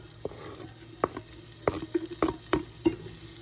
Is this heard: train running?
no